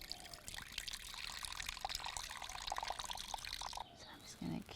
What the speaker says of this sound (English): now I'm gonna give it an actual squeeze.